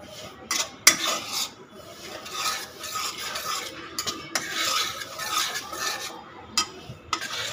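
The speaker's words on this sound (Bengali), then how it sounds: "আঁচটা কমিয়ে সুজিটা পুরো ঢেলে দেবো" Semolina stirred and dry-roasted over low heat on a tawa, with a spoon scraping and clinking against the pan in steady, close strokes and occasional sharper knocks, and no talking.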